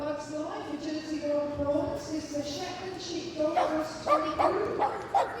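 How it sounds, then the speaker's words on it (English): A Shetland Sheepdog yips and barks during an agility run at Crufts, a series of sharp, close yelps bunching toward the end, heard over crowd noise and a commentator talking continuously. "Flick, Shetland Sheepdog, second time at Crufts."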